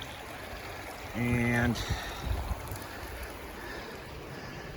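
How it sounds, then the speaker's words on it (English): A river flowing at a gold-prospecting sluicing site on the Wild Ammonoosuc: a steady, soft rushing of water throughout, with a brief tonal knock and a voice speaking briefly over it. "yep, still looking beautiful out here on the river"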